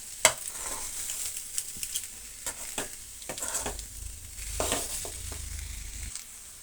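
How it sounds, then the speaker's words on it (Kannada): Potato palya being stirred in a pan on a low flame, with a soft sizzle underneath and occasional scraping clicks from the spoon, quiet and close. "ಸ್ಟವ್ ಮೇಲೇ ಸಿಮ್ಮನ್ನು ಡೌನ್ ಮಾಡಿಕೊಂಡು ನೀಟಾಗಿ ಮಿಕ್ಸ್"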